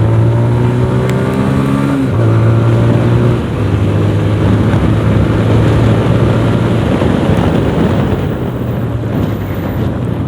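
A TVS Apache 160 2V motorcycle engine revs hard after a downshift, its pitch stepping up and holding in a loud, steady drone close to the microphone, with wind rush throughout and no talk.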